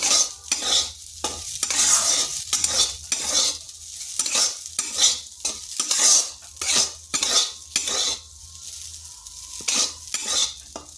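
A utensil stirs sago pearls together with semolina in a pan, scraping and clinking in irregular close strokes over a faint sizzle, with no voices present.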